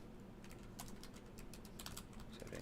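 Someone types on a computer keyboard in a quick, uneven patter of faint key clicks over a noisy background.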